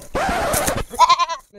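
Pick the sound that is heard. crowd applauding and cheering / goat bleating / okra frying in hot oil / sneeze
goat bleating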